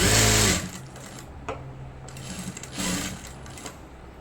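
A sewing machine stitches the back panel of a blouse in short runs, with a loud burst at the start, then quieter intermittent stitching and pauses, heard alone at close range.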